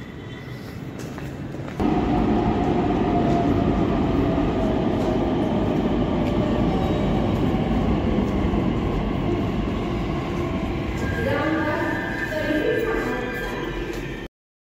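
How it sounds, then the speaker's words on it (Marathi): A Pune metro train runs past a station, a deep, loud rumbling roar that swells in and holds steady, with faint rail clatter and a rising whine near the end. "ही समोर जाणारी मेट्रो वनसकडे जाणारी आहे"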